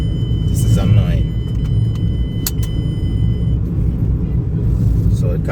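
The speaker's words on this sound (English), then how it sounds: "So the car is changing out gears nicely." A Mazda 2 (Demio) with an automatic transmission drives along with a steady low engine and road rumble inside the cabin. The engine note shifts subtly as gears change, and people talk over it.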